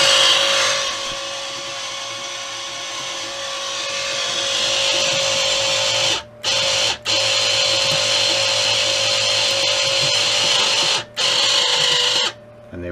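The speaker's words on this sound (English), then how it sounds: "switch the machine on, turn the wire speed up slightly, pull the trigger, you will see it starting to feed." A Sealey Mighty Mig 150 welder whirring steadily as its wire feed motor pushes wire through the torch, running continuously with a few short pauses where the trigger is released.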